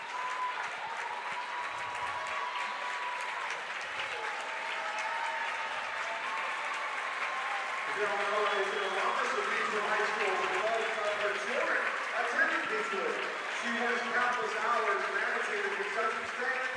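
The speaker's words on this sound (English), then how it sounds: "Got some sort of award ceremony on the court right now that people are applauding" Crowd applause at a high school basketball game, Covington Catholic versus Beechwood, during an award ceremony on the court, steady clapping across the gym with voices and chatter mixed throughout and swelling slightly midway.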